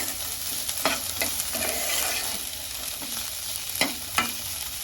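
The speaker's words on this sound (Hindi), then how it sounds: "और प्याज के साथ ही इसमें हम डाल देते हैं हरी मिर्च, और ये गए मटर, इनको भी हम थोड़ा सा भून लेंगे" Onion, green chili and peas roasting in a pan give a steady close sizzle, broken by a few sharp scrapes and clatters as the mix is stirred.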